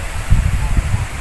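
Loud, close wind buffeting against the microphone in an open farm field being prepared for cucumber planting, with low rumbling gusts, steady and blustery.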